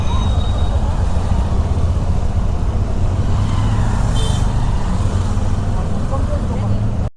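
Stalled lines of vehicles crawl through a traffic jam near Rishikesh, heard from a motorbike as a steady, close engine rumble and road noise that continues for several seconds before stopping abruptly.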